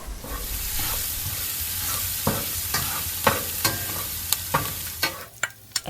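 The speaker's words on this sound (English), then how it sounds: "Add garlic. Stir back and forth for 30 seconds to mix them up." Garlic is stirred into Dungeness crab stir-frying in a hot pan, a continuous close sizzle with scraping spatula strokes and sharp clicks against the pan that grow more frequent toward the end.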